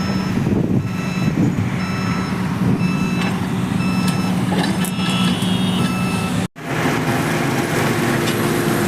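An earth-moving machine shifts soil at an NH 66 roadwork site in Randathani, Chenakal, Malappuram, its reversing alarm beeping steadily over a heavy diesel engine rumble, loud and close, with a brief break near the end.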